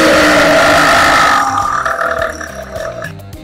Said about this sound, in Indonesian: ia pun berhasil bersendawa dan mengeluarkan nafas-nafas bau jigong miliknya